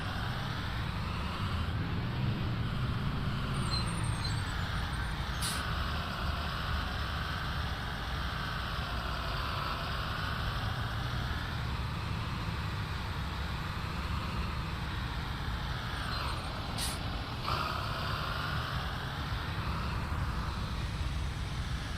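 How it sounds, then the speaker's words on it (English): A bus in a bus-driving video game rumbles behind the player with a steady, moderately loud engine drone, its pitch rising and falling gently as it moves, with a couple of brief sharp clicks along the way. "We're hearing a bus behind me."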